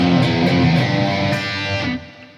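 Distorted electric guitar rings out with squealing pinch harmonics, bright and loud over a gritty sustained tone that fades near the end.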